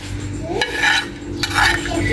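Dried chillies fry in oil in a kadai with a soft, low sizzle, while a spatula scrapes and stirs against the pan in a few close strokes.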